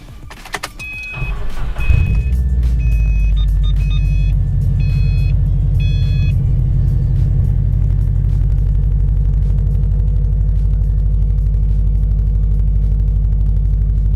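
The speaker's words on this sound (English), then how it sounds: "right now I'm gonna go ahead and test drive it" A car, a 2018-era vehicle prepared for Autocon LA, out on a test drive: a brief start-up with a few short chiming beeps, then a steady, loud low engine and road rumble that holds throughout.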